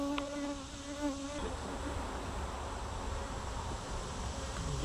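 Bees buzz steadily around a farm hive being prepared for transport, a continuous close droning hum with a brief higher whine near the start, with no voices.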